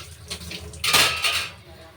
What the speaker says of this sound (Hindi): हैंड टू हैंड सारे बर्तनों को धो लो